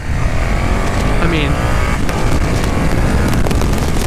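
A KTM 1290 Super Duke R motorcycle accelerates at partial throttle, a loud, steady engine roar with wind rush throughout as a rider talks over it.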